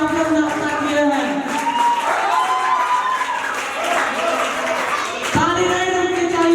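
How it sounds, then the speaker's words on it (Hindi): Audience applause fills a Teacher's Day celebration at a college of commerce, arts and science, steady and loud throughout, with a voice speaking over the clapping. "बाकी जोरदार ताली आप लोग बजाइए"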